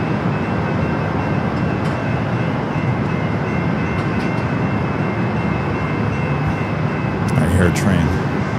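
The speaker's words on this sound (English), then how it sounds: "I hear a train." A train rumbles past near San Diego airport, a steady broadband roar holding throughout with faint higher tones and a brief clatter near the end, continuous and fairly close.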